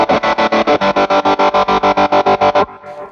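Heavily distorted electric guitar chords pulse in fast, even tremolo chops through a Line 6 modelled Marshall Plexi tone, about sixteen rhythmic bursts played alone before a softer fading tail.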